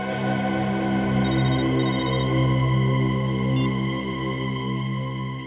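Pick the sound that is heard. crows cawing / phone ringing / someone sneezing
phone ringing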